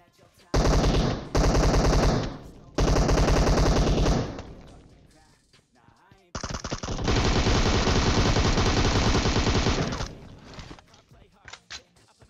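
Gunfire in the PUBG Mobile video game: three short, loud automatic bursts in quick succession, a pause, then one long sustained volley that tapers off.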